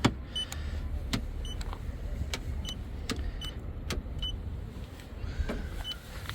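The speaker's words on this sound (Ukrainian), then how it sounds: "Є складання дзеркал, воно працює." The power side mirrors on a Mazda fold with a faint, steady electric motor whir, close by and fairly quiet, broken by a series of light clicks at regular intervals.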